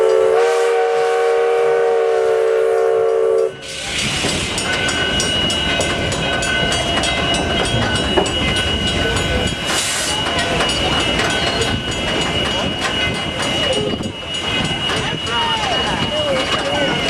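Virginia and Truckee Railroad steam train opening with a loud whistle blast, then a steady rolling rumble of wheels and cars under a trestle, with a narrator speaking over it.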